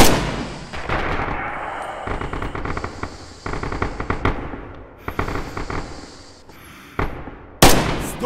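Dense WWII firefight in Red Orchestra 2 at Stalingrad: rapid machine-gun bursts and rifle shots crackle continuously at close range, with sharper loud reports near the end.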